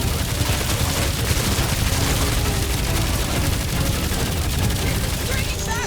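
Dense, unbroken gunfire and blasts from combat in Marvel's Guardians of the Galaxy, loud and continuous throughout, with voices calling out over the din.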